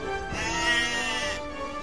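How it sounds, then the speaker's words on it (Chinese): Sheep-like bleating from an animal in an animated story, one sustained wavering bleat lasting over a second, loud and close, with no talk around it. "一直咩咩叫"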